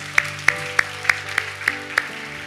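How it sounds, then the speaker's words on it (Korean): A church congregation gives a round of thanks applause during a Korean Sunday worship service, heard as a steady run of about seven evenly spaced, crisp claps over a low sustained hum. "우리 다시 한번 하나님 앞에 감사의 박수 올려드리겠습니다."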